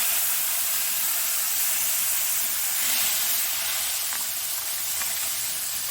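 Sausage dropped into hot oil left over from frying eggplant sizzles with a loud, steady, close hiss that holds evenly throughout, with no talking.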